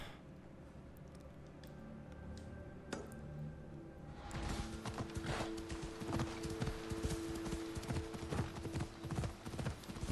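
Horse hooves clip-clopping at a steady ride in Assassin's Creed Odyssey, a rapid rhythmic hoofbeat that grows louder and busier partway through, with faint talk in the background.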